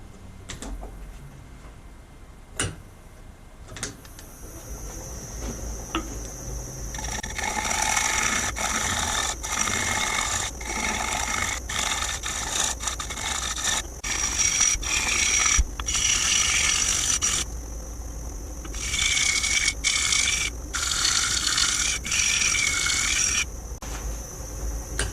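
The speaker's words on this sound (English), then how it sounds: "Nice sharp edge there, and that's going to just glide across the wood. You can see it taking some shavings off there." Wood lathe turning a bowl made from a floorboard, a sharp tool gliding across the spinning wood and taking fine shavings, heard as a close, steady rasping scrape with bursts of hiss and ticks that stop briefly near the end.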